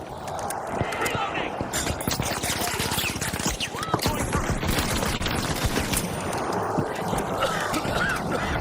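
Turret gunfire in a video game: rapid, dense bursts of shots rattling almost continuously, mixed with other game effects, with a voice talking over the top.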